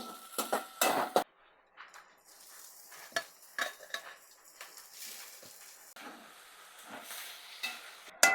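Chana dal, urad dal, onion and chilli are tempered in a pan, then spinach goes in: a spoon stirs and scrapes the metal pan, with clinks and a soft sizzle heard close up, and no talk.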